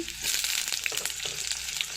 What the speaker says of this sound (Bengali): আলু এখান ভাজা হইতে